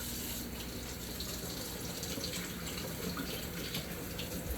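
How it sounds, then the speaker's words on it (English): Cold water runs from a kitchen tap into a sink for rice washing, a steady broadband splashing stream that continues evenly throughout with no voices. "turn on the cold water"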